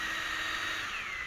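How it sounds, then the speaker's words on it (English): A power drill boring a hole through a Kydex sheath, one steady high-pitched whine running close and continuous for about a second. "the last hole you're going to drill."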